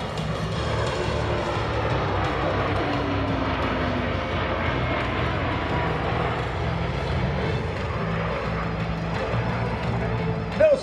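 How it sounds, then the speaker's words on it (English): A C-17 Globemaster military transport aircraft flies past show center at an airshow, a steady broad engine roar holding level throughout with voices in the background. "Notice how quiet the C-17 was while passing show center."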